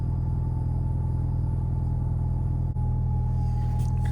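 Alfa Romeo GTV engine idling steadily after being repaired, a constant low rumble with a high-pitched whine on top, close and even throughout, no voices.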